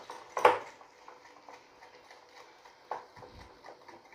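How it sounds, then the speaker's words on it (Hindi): A whisk beats naan khatai mixture in a bowl, producing a steady run of faint, rapid ticking taps against the bowl with one sharper knock early on, close and quiet. "फिर मैं इसको विस्कर से whip करूँगी।"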